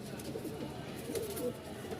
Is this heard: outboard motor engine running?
no